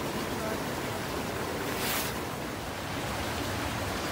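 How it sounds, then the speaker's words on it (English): Rushing stream water behind a footbridge at a garden stream center, a constant broadband roar filling the whole clip, close and steady. "You can hear the rushing of water behind it."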